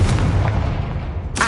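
A Confringo fire spell detonates in a Harry Potter video game, a dense, sustained booming blast rumbling heavily through the low end, ending in a sharp crackling burst.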